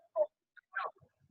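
A chicken gives two short clucks close by, each a brief, isolated burst against near silence.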